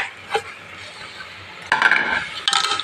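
A spoon clinks and scrapes against a metal pot while rice halwa is stirred, a few sharp knocks spaced apart over quiet kitchen background.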